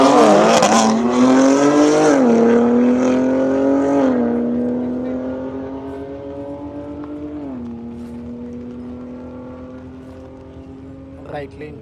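A Porsche Turbo S launching at a private track day drag race: a harsh, loud engine roar with rising revs and audible gear shifts, fading steadily as the car pulls away into the distance.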